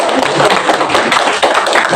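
A class in an accounting microteaching lesson claps for a student: a short, loud, close burst of many hands clapping together in a dense patter.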